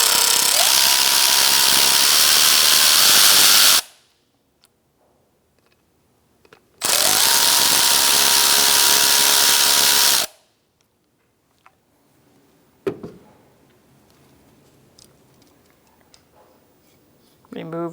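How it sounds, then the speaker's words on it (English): A power driver with a T20 Torx bit spins out two bolts on a Ford Focus mass airflow sensor, two loud buzzing bursts of a few seconds each separated by quiet, then light handling clicks. "Use a T20 Torx bit and take out these 2 bolts."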